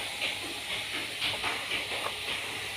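A tomato and green chili curry sauce for pomfret, made with black cumin seeds and oil, boils in a pot, giving a steady hiss with soft, repeating bubbling pulses throughout.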